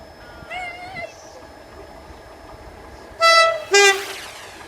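Rail Operations Group Class 37 locomotive 37884 passing a level crossing, with two loud, close horn blasts near the end over a background rumble, preceded by fainter tonal sounds.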